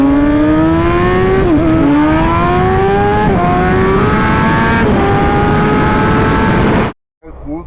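A Yamaha R1 sport motorcycle fitted with nitrous pulls hard while being ridden, its engine howl climbing in pitch through several gear shifts and dropping briefly at each change, loud and close, before cutting off abruptly.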